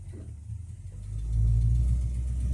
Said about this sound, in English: Idling right now at about 850 RPMs